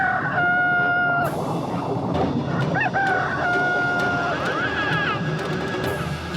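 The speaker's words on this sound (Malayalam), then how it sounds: "ഇതാണ് കടൽ കോഴി" A cartoon sea rooster crows in an underwater Octopus World scene, several bright, stretched calls rising and falling one after another over a busy background of music and effects.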